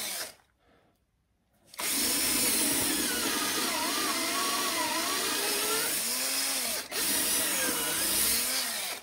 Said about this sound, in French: Et je vais percer mes trous.